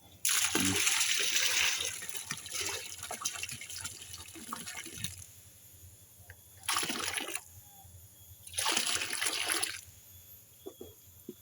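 Molasses carbon solution poured into a biofloc fish tank, a steady splashing liquid pour that runs for several seconds, stops, then returns in two shorter bursts, close and fairly loud.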